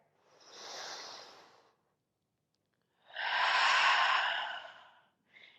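Breathing in a lunge yoga pose: a soft airy exhale, a pause, then a longer and louder breath, close to the listener and alone, followed by the start of another breath.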